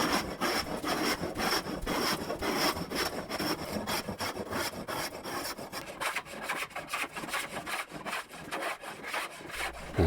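Hand scrubbing along a wooden workbench rail gives a rapid, rhythmic rasping rub, strokes repeating steadily for about ten seconds, close and moderately loud with no talk.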